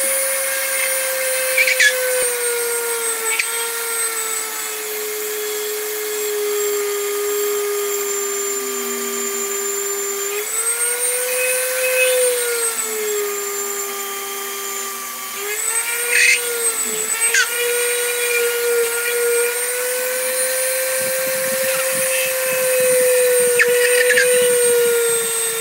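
A Dremel rotary tool grinds into a pumpkin with a sustained high whine that dips and rises as it bites into the surface. It runs close and loud without pause, and nobody speaks over it.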